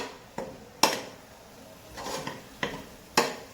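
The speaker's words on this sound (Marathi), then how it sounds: "टमाट्याची गिरवी टाकली आहे तर थोडंसं हलवून घेऊया" Tomato puree being stirred in a cooking pot for a spicy village-style mutton rassa, a few separate clinks and scrapes of a spoon against the metal pot, spaced irregularly against a quiet background.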